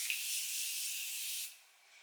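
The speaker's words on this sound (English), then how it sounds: "It is the Morphe Continuous Setting Mist, like the aerosol one." Morphe Continuous Setting Mist, an aerosol, gives one steady, close hiss of spray lasting about a second and a half before cutting off.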